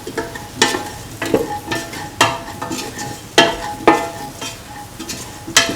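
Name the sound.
stirring ginger potato rice in a pan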